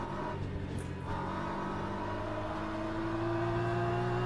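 Race cars driving in Le Mans Ultimate, a steady droning engine note with sustained tonal harmonics and a brief swish early on, continuous and fairly faint with no talk.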